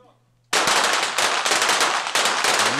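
Competitors firing at a shooting competition, where a sudden onset of rapid, loud, closely spaced shots from several shooters rattles on continuously after near silence.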